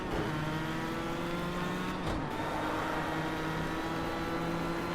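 A race car engine in a racing game drones at a steady high pitch with whining harmonics, dipping briefly as it shifts and then holding constant, loud and close with no voices.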